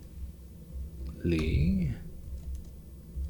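Typing on a computer keyboard, with light, quick key clicks running under a person talking.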